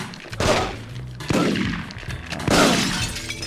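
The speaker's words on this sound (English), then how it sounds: "There's a madman with a freaking shotgun shooting everybody." Shotgun blasts in The Getaway video game, three loud booming shots spaced about a second apart, each with a ringing tail, and no talking over them.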